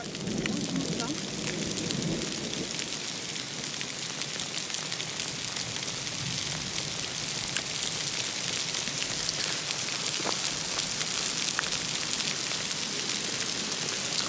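Heavy rain with large drops and hail pounds down during a storm at Beaumont in Ardèche, France, a dense, steady roar that stays loud for the whole stretch, with a low murmur near the start.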